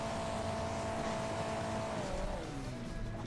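A race car's engine in Hill Climb Racing 2 screams at full throttle, a loud steady whine that holds its pitch and then dips and shifts near the end, alone without voices.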